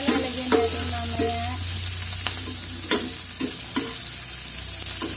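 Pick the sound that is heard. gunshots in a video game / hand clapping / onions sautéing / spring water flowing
onions sautéing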